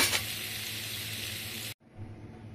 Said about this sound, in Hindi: इस तरह से हमें फ्राई करना है